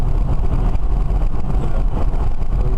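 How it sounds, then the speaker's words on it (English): A BMW converted to electric drive accelerates along a road, giving a steady, loud rush of road and wind noise throughout with no clear engine note. "I'm doing 55, still accelerating."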